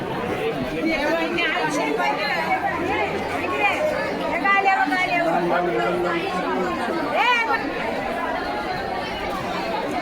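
Dense crowd chatter fills the Panvel fish market, with many overlapping voices at close and middle distance forming a steady, busy hubbub throughout.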